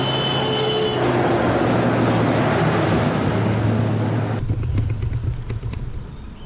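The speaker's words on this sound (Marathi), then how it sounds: "गाडी येते." A vehicle comes up the steep Kumbharli ghat mountain road during a cycling climb, a loud, steady close engine rumble that shifts abruptly partway through into a rougher, grainier roar, with no talking.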